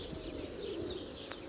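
A large flock of pigeons coos softly outdoors, a low continuous murmur of many birds at a distance, with a faint chirp and a brief flutter near the end.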